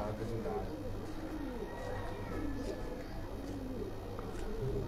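Kamagar pigeons on a rooftop, giving low repeated coos under and between men's conversation, faint against a steady background hum.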